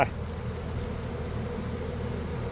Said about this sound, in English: There's definitely some honey. I don't know, I guess they're swarming or something.